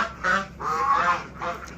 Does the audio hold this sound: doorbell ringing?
no